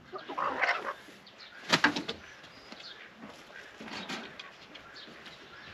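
Chickens in a wooden chicken coop cluck and squawk in short bursts with some wing flapping, a few loud close calls standing out over quiet background.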